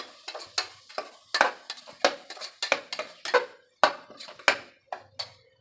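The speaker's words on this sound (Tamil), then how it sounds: "சேர்த்து நல்லா கலந்து விட்டுக்கலாம்." A utensil scrapes and clatters against a pan while stirring tomatoes in quick, irregular strokes, with a faint sizzle underneath and no voices.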